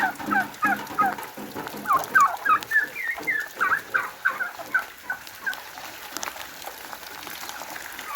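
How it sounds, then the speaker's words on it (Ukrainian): Turkeys gobble repeatedly in a burst of warbling calls, loudest early on and fading out, with steady rain hissing in the background. "індики не хочуть ховатися"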